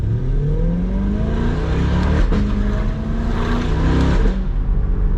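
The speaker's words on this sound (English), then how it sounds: "This car sounds so good" A Chevrolet C8 Corvette with its factory catback exhaust accelerates hard, the engine roaring loud and close with rising harmonics that climb, dip at gear shifts and climb again, no talking.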